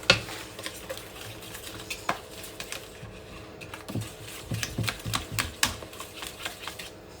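Brownie batter with vanilla essence being mixed by hand in a bowl for date and walnut brownies, with irregular scraping and tapping strokes, close and moderately quiet, no talking.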